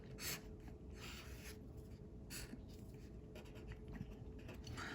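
Pencil or pen scratching and rubbing across paper while drawing during a statistics lesson on z-values, a steady close scratchy texture with brief louder strokes, no talk.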